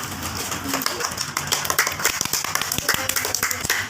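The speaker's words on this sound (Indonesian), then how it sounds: "tepuk tangan" Fourth-grade schoolchildren clap in a primary school classroom, a brief burst of scattered, uneven hand claps with voices talking around it.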